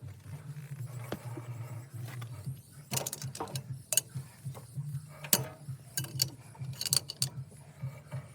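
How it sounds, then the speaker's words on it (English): A Fiat 600 tractor engine turned over slowly by hand with a big screwdriver, giving irregular metallic clicks, ratcheting and clunks close by over a low hum. "But now it's time to turn it over by hand"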